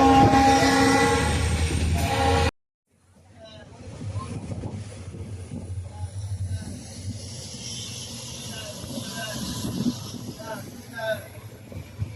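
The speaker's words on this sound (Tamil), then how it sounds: "நம்ம ட்ரெயின் வந்துருச்சு. இந்த ட்ரெயின் ஏறியாச்சு." A passenger express train at a Ramanathapuram station rumbles steadily close by, a continuous low mechanical drone after a sharp cut from louder noise, with voices faintly in the background.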